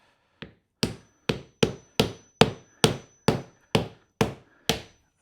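Timber wedge driven between rocking patio slabs with a hammer: eleven sharp, evenly spaced knocks, close and crisp, one roughly every half second with silence between.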